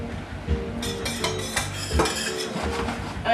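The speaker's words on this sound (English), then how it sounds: "Start with putting the onions in there." Chopped onions tumbling into a cooking pot and being stirred, with clinking of a metal utensil against the pot, a few close knocks and scrapes over a few seconds.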